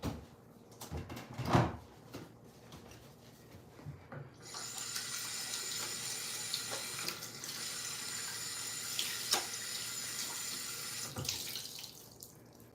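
Kitchen tap running steadily while a utensil is washed in the sink, a near, continuous rush of water that starts after a few clicks and knocks, with occasional clatters.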